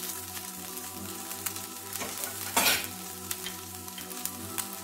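Cooked rice noodles, or sevai, sautéing and being stirred in a pan for a South Indian breakfast, with steady soft frying and a brief louder scrape of stirring midway.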